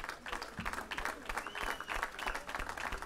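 Applause from an audience at a flamenco-style gathering honoring a singer, steady clapping with scattered sharp claps, fairly close and moderately loud, continuing throughout without speech.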